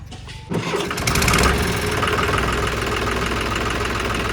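A John Deere 5055 tractor fitted with a repaired inline fuel pump cranks briefly, catches and settles into a loud, steady diesel idle nearby, with no talking.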